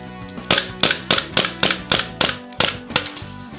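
An EMG Hudson H9 gas blowback airsoft pistol fires about nine sharp, snappy shots in a quick, slightly irregular rhythm, each crack close and loud with a brief metallic slide clack and no talk.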